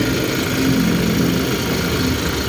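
Steady loud engine drone from a 2016-2019 Toyota Innova automatic with a rumbling engine that gets louder at higher rpm, heard close and continuous with no talk.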